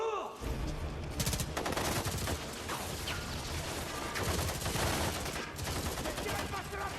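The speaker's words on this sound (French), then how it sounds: "Ne tirez pas sur la piste!" Dense gunfire fills an action film scene from The Marine 6 (2018): sustained, loud automatic bursts and single shots crackle without pause, with faint voices underneath.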